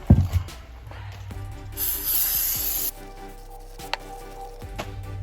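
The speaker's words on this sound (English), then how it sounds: "them down with some brake cleaner because there's a little bit of oily residue on them to keep them from rusting" Brake cleaner sprayed from an aerosol can onto the brake rotors of a Lexus IS350 during a pad and rotor job, a loud steady hiss lasting about a second, set between handling noises and a few light knocks.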